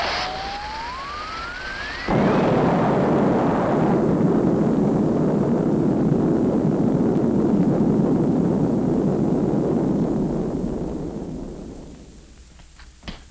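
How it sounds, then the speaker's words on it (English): Explosion in an alien invasion film: a rising whistle gives way to a sudden loud blast that rumbles on as a sustained roar for about ten seconds before fading out. "Looks like there's been some kind of an explosion over in Pelham Woods."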